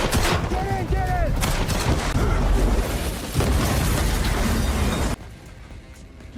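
A car explodes in a loud, sustained blast rumble with crackling debris and scattered shots, cutting off abruptly into quieter background near the end.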